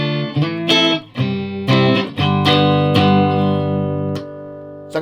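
Electric guitar on its neck single-coil pickup played through an Orange TH30 amp with a reverb pedal, ringing chords struck in a loose rhythm, sustaining with reverb tails, loud and alone.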